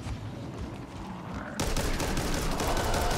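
Sustained gunfire in the co-op zombie shooter Back 4 Blood, a dense rattling burst that grows louder and heavier halfway through and continues without pause.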